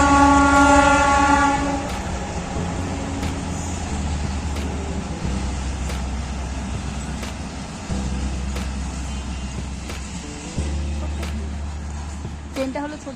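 A Bangladeshi train rolls past at a distance near the border, a steady rumbling clatter with faint rhythmic thumps of the wheels, heard under background music and someone talking.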